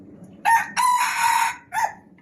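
A large rooster crows in a loud, close call that breaks into a short opening note, a long sustained middle and a brief clipped ending, with quiet surroundings.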